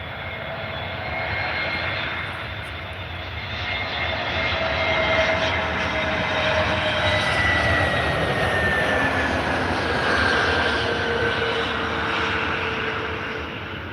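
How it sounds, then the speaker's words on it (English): Jetstar airliner landing in a flight simulator game: a continuous loud engine roar with slowly gliding whine tones as thrust changes, steady throughout with no talking. "That was probably the smoothest landing Jetstar's ever done, honestly, because that was pretty smooth."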